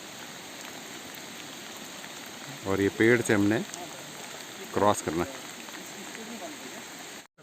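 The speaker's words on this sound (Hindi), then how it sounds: "बारिश हो रही है" Steady rain hisses down in a dense jungle beside a flowing river while someone speaks briefly in two short bursts.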